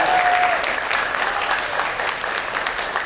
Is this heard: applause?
yes